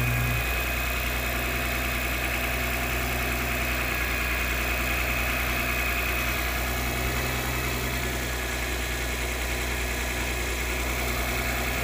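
A 2006 Lexus IS350 engine idles steadily while warming up after sensor work, a constant close low rumble and hum with no voices over it.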